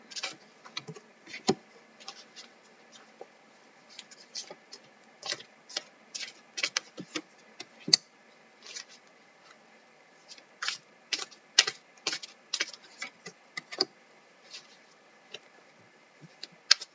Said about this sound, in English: So I'm pulling the cards.